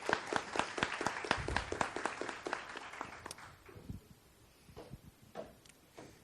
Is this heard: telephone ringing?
no